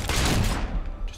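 Rapid gunfire from a video game, fired while fighting Balverines in Fable 3; a dense, continuous burst of shots sounds loud and close across the whole moment, with no talk.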